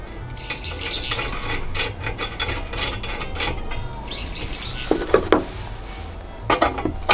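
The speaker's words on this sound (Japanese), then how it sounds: "で付属のスパナで締めます、キュッと。" A camping alcohol burner part is tightened with its included spanner. The close metal-on-metal scraping and rubbing is broken by small sharp clicks and clinks, and a few louder taps come near the end.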